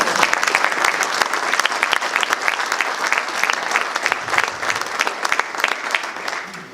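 A conference audience applauds the PACE staff with dense, sustained clapping from many hands, steady and loud throughout with a faint murmur of the crowd beneath.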